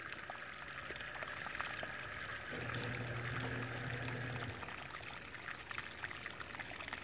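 Water from a homemade micro hydro plant pours and trickles in a steady, faint stream, with a low hum joining partway through and then fading out. No one speaks.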